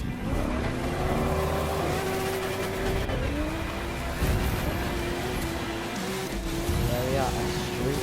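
Racing cars in the video game The Crew 2 roar through New York City streets, engines revving and shifting continuously at close range, with a voice talking over the engine noise throughout.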